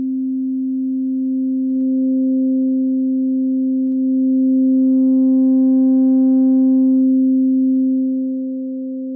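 A steady sine tone hums through an Arturia Dist TUBE Culture pentode 1 tube distortion, a smooth, slightly thickened drone with a faint extra edge midway, alone and unbroken.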